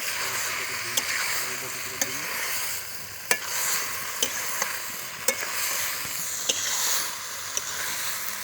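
Mushroom and chicken being stir-fried together in a pan, a bright continuous sizzle with regular sharp spatula scrapes and taps roughly every second, close and fairly loud.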